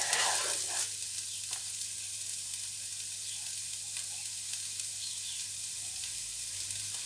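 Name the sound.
stirring sizzling celery for chicken jambalaya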